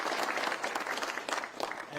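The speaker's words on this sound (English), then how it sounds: "So please, clap hand for yourself, as you say." Crowd applause at a FIFA Club World Cup event in Orlando, a dense burst of clapping from an audience lasting about two seconds, with a voice faintly present.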